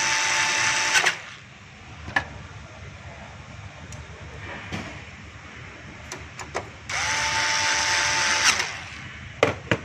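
A power screwdriver drives screws back into the four corners of a Toshiba copier's ADF cover, giving two sustained high-pitched whirring bursts with scattered clicks and taps between them, close up, with no talk.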